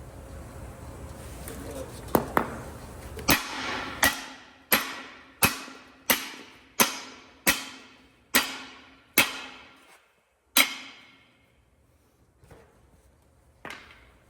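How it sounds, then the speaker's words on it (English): Hammer pounding studs out of a rotor hub during an old-style rotor replacement, a dozen sharp ringing metallic blows in a steady rhythm, close and loud, with a few scattered strikes after a pause. "I'm going to pound these out so we can separate the hub from the rotor itself"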